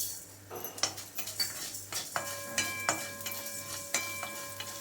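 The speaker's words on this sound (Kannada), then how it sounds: "ಈ ಎಣ್ಣೆಗೆ ನಾನು ಒಂದು ಸ್ಟೇ ಟೇಬಲ್ ಸ್ಪೂನಷ್ಟು ಧನಿಯಾ ಅಂದರೆ ಕೊತ್ತಂಬರಿ ಬೀಜ ಹಾಕ್ಕೊತಾ ಇದ್ದೀನಿ" Coriander seeds crackle and sizzle in hot oil for a rasam, with sharp spoon clinks and stirring scrapes against the pan, close and fairly quiet, no voices.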